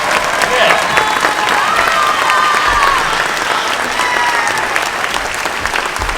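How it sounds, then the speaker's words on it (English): Applause from a crowd at a robotics competition opening ceremony, sustained dense clapping for several seconds, loud and close, with a few faint voices mixed in. "Let's give them a big round of applause, shall we?"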